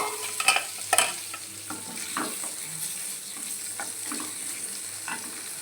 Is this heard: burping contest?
no